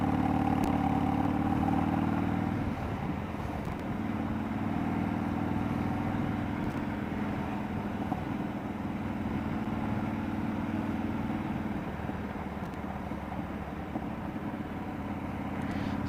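A motorcycle engine drones steadily throughout a test ride in cold weather, with continuous mid-pitched engine rumble and wind-like noise close to the mic, no talk.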